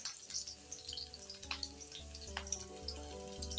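A single green chili sizzles in hot oil while potato sabudana vada is being made, giving a soft, steady frying crackle. Faint clinks and a low background hum run beneath it, with no talking.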